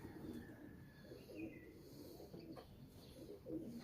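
Pigeons coo at a bustling pigeon market at Lahore's Lari Adda, a steady stream of low, rolling calls from several birds overlapping against a busy background hum, with no voices close by.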